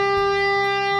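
A single right-hand tapped note on a distorted electric guitar with the other strings muted, ringing as one steady sustained tone with bright overtones through the whole moment.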